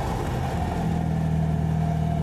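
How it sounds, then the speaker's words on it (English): A Citroën 2CV's air-cooled engine revs steadily with a droning, buzzy tone that climbs slightly in pitch, close and continuous for the whole stretch. "Air-cooled engines like to rev."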